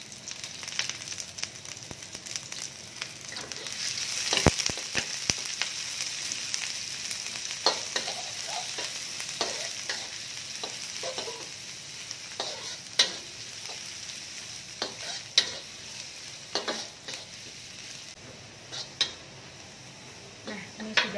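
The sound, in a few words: sautéing shallots, garlic and ginger in oil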